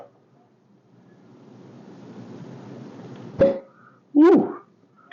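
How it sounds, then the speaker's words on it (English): A synthetic cork pops out of a freshly opened bottle of Joseph Magnus Cigar Blend bourbon, a sharp pop followed by a second louder burst, close up after a stretch of soft rustling. "That was a cork pop and a half."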